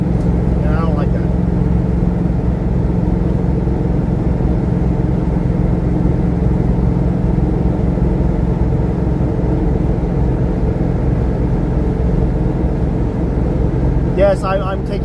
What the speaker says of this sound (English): And my truck is very loud.